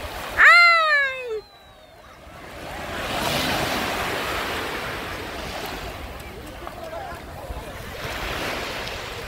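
Ocean surf washes steadily onto a sandy beach where a sandcastle stands near the water, a soft continuous roar of breaking waves after a brief high whining cry at the start.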